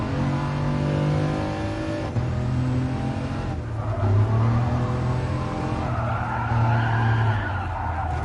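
Car engine and skidding tyres in the Gran Turismo VR racing game on PS4, a steady droning engine note with shifting pitch and squealing slides running continuously and loud throughout.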